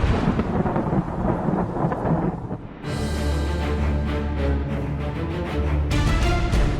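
Thunder from lightning rolls loud and deep, a long rumbling roar with a sudden sharper crack partway through, over a constant wash of heavy rain.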